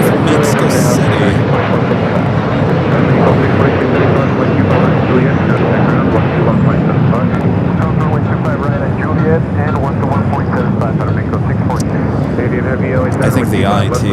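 An airliner arriving from Mexico City at LAX airport roars steadily for the whole stretch, with a broad, continuous jet engine rumble and talk going on over it.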